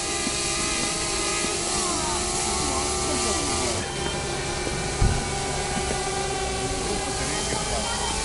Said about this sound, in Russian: Парень будет дрон запускать.